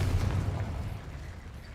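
A Confringo blasting spell goes off in Hogwarts Legacy inside a tomb, a low booming rumble that swells and slowly fades over under two seconds with no voices.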